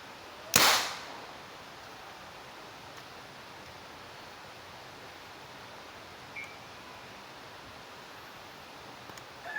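A homemade butane-powered PVC toy gun fires an 8mm steel ball: one sharp, loud crack near the start, then quiet background with a faint click later.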